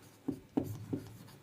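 A pen scratches across paper by hand as a definition is written out during a Class 10 maths lesson on polynomials: four short, quiet strokes in a steady rhythm, with no talking.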